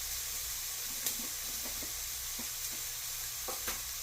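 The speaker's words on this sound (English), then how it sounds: "We get our spices toasted up." About two tablespoons of curry powder toast in a pan with a soft, steady sizzle and hiss, broken by faint stirring scrapes and taps, fairly quiet and with no talk.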